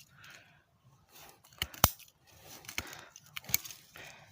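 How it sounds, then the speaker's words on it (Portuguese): Garden scissors snip through thick plant roots while gathering leaf litter, giving several sharp, close clicks spaced apart against a quiet background. "a gente vem com a tesoura"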